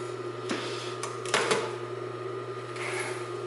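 A CONSEW 226R industrial sewing machine stitches piping onto fabric, giving a steady mechanical hum with a low motor drone and a few sharp clacks partway through, fairly quiet and close with no talking.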